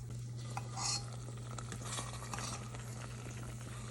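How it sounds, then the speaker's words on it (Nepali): Sugar and flour being stirred and roasted in a pan: steady scraping and light clinks of a spoon against the pan over a constant low hum, with no voices. "यो चिनी पनि यसरी राखेर 1-2 मिनट भुटिदिनुहोस्।"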